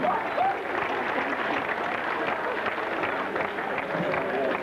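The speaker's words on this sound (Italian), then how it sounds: "Facciamo un applauso al Cavalier Renzi." An audience claps steadily for Cavalier Renzi at the end of a 24-hour record attempt in Civitavecchia, a dense, even patter that stays level throughout.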